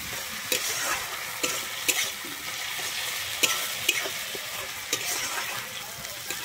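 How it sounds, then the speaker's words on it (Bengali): Half-ground tomato fries in oil in a pan for a Bengali tarai fish curry, with a steady sizzle and a spatula stirring and scraping at irregular intervals, close and moderately loud. "আমি টমেটোটা দিয়ে কিন্তু এবারে সুন্দরভাবে ভেজে নেবো, যাতে টমেটো থেকে কাঁচা গন্ধটা আমার চলে যায়"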